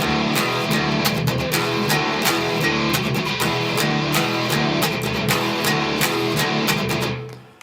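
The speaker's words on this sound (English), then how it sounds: "On to the second line, and we kick some distortion in" Heavy distorted electric guitar chugs through a steady, loud riff with sharp rhythmic accents, fading out abruptly at the end.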